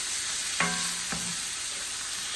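Butter cooks in beef fat left in a pan after searing ribeye, giving a soft, even sizzle throughout, with two brief knocks of a utensil early on.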